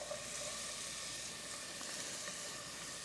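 Butternut squash sizzling in a hot pan for black bean soup, a steady faint hiss of frying that continues unbroken without any talk.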